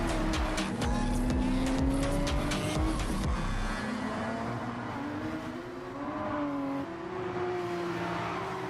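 Race car engine in Gran Turismo 7 on the Deep Forest track, a loud continuous engine drone with rising and falling pitch through gear changes and braking, tyre noise mixed in, no talking.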